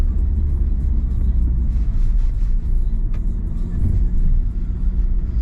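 An Audi S3 fitted with an ABT exhaust idles while still warming up, a steady low rumble close by with no sharp revs, continuous throughout.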